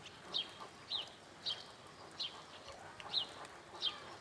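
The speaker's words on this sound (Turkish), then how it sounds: "Bunun ne kuş olduğunu, bunların ne kuşlar olduğunu bilemedik." Unidentified birds calling in a repeated series of short, thin chirps spaced about half a second apart, fairly faint against quiet outdoor background.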